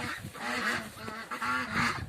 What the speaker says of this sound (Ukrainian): Каченятка мої.